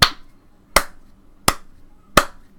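A single person's slow clap, four sharp hand claps spaced evenly about three-quarters of a second apart, crisp and fairly close in an otherwise quiet outdoor setting.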